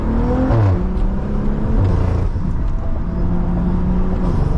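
A tuned BMW with a Stage 2+ setup, known for pops and bangs, pulls hard on city streets in Ottawa, its engine note rising loud and steady from inside the cabin with a continuous throaty drone.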